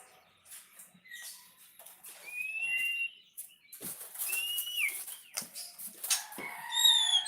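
A newly caught songbird in a cage chirps and whistles in short, bright bursts, close and fairly clear, with soft fluttering and rustling between calls.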